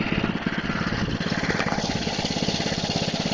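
The Eager-1 snowblower's small engine runs steadily and loud throughout, a close, unbroken, rough mechanical drone with a fast pulsing rhythm and no talk.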